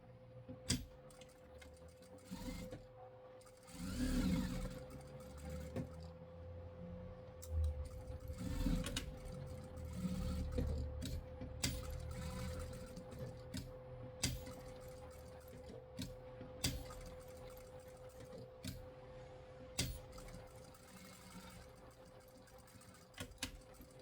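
A sewing machine stitching around a fabric sheep toy, running in short bursts of fast rattling stitching between pauses, with clicks and handling noise, close and fairly quiet.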